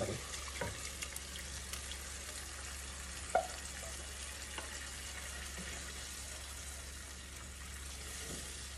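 Hilsa fish roe fries in oil, a soft steady sizzle with a few faint clicks and one sharp knock.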